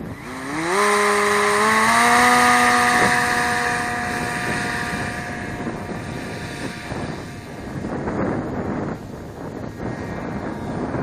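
RC AeroSport 103 ultralight model plane with a 16.8 prop flying on a windy day: a loud buzzing engine climbs in pitch, then the whine fades into steady wind noise as the plane moves away.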